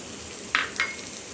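Coriander, cumin and dried red chili hit hot oil for a red lentil tadka, with two quick bright spattering sizzles over a low steady hiss, close and alone.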